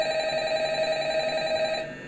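Telephone ringing in the Five Nights at Freddy's video game: a steady electronic ring holds loud and unbroken, then cuts off abruptly near the end.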